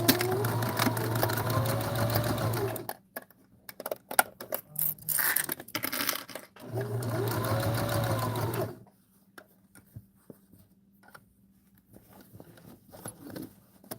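Sewing machine stitching a seam beside a zipper, two fast rhythmic bursts of whirring needle runs separated by pauses with small clicks and handling taps, close and clear with no talk.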